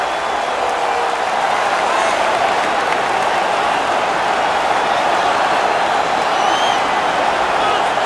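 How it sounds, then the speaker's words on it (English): A packed hockey arena crowd roars in NHL 20 during a Vancouver Canucks versus Vegas Golden Knights game, a dense, steady wall of cheering and applause that holds at full volume throughout. "They are pumped in here. Yeah, this crowd on fire now here in the arena."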